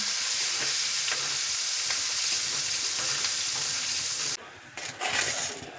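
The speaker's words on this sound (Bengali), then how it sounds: "এলাচ দারচিনি ও লবঙ্গ দিয়ে দিলাম এগুলো আমি ভালো করে ভেজে নিলাম" Bay leaves, cardamom, cinnamon and cloves fry in hot oil in a wok, giving a dense, even hiss that stays loud and close, then drops briefly and flares up again near the end.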